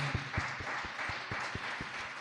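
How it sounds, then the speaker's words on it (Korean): A church congregation claps together in a steady rhythm, about eight or nine firm, evenly spaced claps in two seconds. The clapping fills a large room at moderate loudness, with no voices over it. "하나님께 영광의 박수 올려드리겠습니다"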